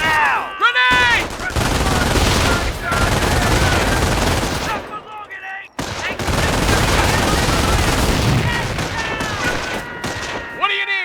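Dense gunfire in the Company of Heroes video game: sustained machine-gun bursts and rifle fusillades, loud and near, with a short break partway through and brief shouted voices among the shots.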